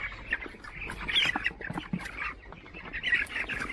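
Many broiler chickens on a poultry farm cluck, chirp and squawk together in a continuous, fairly quiet chorus, with no talking.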